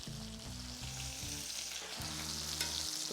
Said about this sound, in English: now we're just gonna let it sear until it's nice and golden and smelling amazing